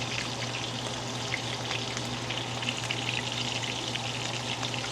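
Shrimp coated in crushed pork rinds, dipped in egg, fry in hot oil with a steady, dense sizzle and crackle that holds evenly close up throughout, with no voices.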